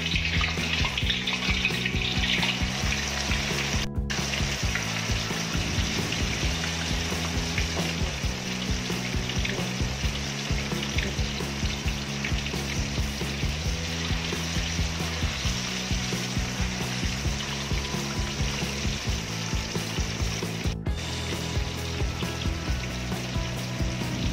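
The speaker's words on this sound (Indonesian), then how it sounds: "Minyak sudah panas, segera digoreng." Soaked, drained tofu pieces frying in hot oil, a steady loud sizzle and crackle that runs unbroken throughout with a rhythmic low rumble underneath, close up and without speech.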